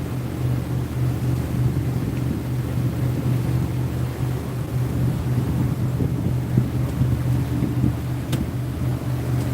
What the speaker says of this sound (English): That wind is not as bad now.